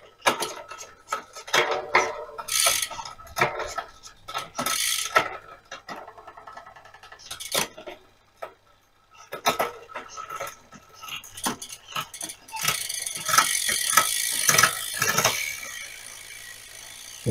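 Road bike being pedalled on a stand during a self-build, its 12-speed electric-shift drivetrain ticking and clicking in irregular bursts, with metallic rattles from the gears close by.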